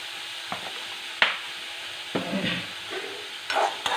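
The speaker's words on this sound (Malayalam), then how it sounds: "ചെറുതായിട്ടൊന്ന് വഴന്ന് കിട്ടിയാൽ മതി. ഒരുപാട് എണ്ണയൊന്നും ഒഴിച്ചിട്ടില്ല." Onions sauté in a small amount of oil in a pan, giving a soft steady sizzle broken by a few sharp scraping stirs, close and with no talking.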